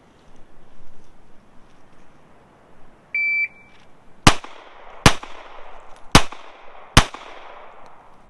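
A shot timer beeps to start a range drill, followed by four sharp gunshots spaced roughly a second apart, each loud and close with a brief echoing tail.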